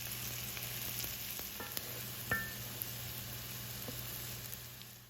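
Onions with a little salt frying in a pan, caramelizing as they cook, give a steady close sizzle with soft crackles and a few light stirring knocks, no talking.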